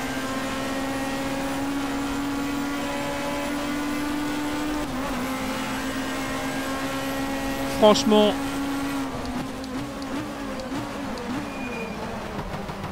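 Touring car engine in the racing game GTR2 with the Touring Car World mod, a sustained droning engine note that dips around gear changes and wavers toward the end, with someone speaking French over it.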